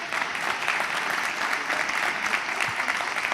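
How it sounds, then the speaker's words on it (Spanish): A live audience at a comedy monologue show applauds a woman from the crowd with steady, dense clapping that stays loud and even throughout, with no talking over it. "Un aplauso para Gemma, por favor."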